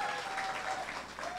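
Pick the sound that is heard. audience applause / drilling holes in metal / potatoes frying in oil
audience applause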